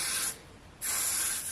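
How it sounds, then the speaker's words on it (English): Got2b hairspray hisses in two bright, steady bursts from a can onto a wig, with a short pause between them, close and fairly loud, no voices. "You can spray it a little bit here."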